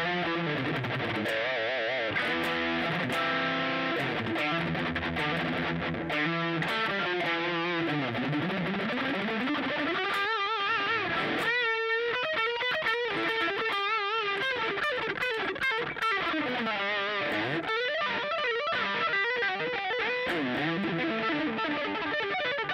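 An electric guitar plays through a Pirate King Mr Crazy mod distortion effect pedal, giving a gritty, saturated tone across sustained chords and melodic runs that continue without pause.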